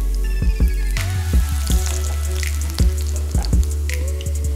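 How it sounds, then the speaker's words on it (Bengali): Minced garlic frying in hot mustard oil crackles and sizzles steadily up close, with several soft knocks and clinks of a spoon against the pan. "এখন আমি 1 চা চামচের মতো রসুন কুচি দিয়ে নিচ্ছি। এটাকে হালকা একটু ভেজে নিব।"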